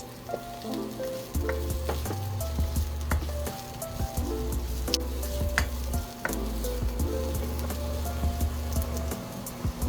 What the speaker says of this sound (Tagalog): Sunod, lalagay na rin natin yung ating na-slice na carrots.